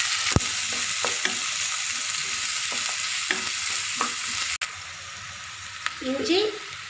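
Green chilli and onion sautéing in oil with whole spices, a steady sizzle broken by spoon-stirring knocks and scrapes, close, with a brief voice near the end.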